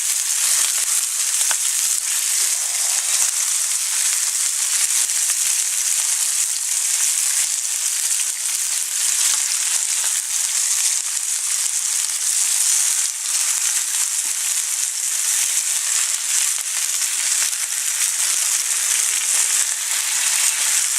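Steak and mushrooms fry together in a crowded pan, a loud, close, continuous hiss and crackle of sizzling that holds steady throughout.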